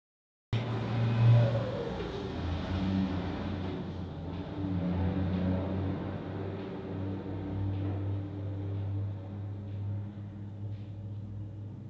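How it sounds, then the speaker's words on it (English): A car engine revving and accelerating outside, a low rumble that starts abruptly and holds through the clip with a brief rise early on, moderately distant. "Oh, how I hate those cars."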